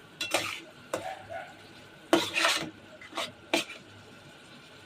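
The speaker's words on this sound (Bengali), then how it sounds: "মাংসটা ভালো করে কষিয়ে নিয়েছি" Spatula strokes scraping and stirring minced meat as it braises in a pan with a little water, a series of short scraping bursts, close and fairly loud, with a faint sizzle between them and no talking.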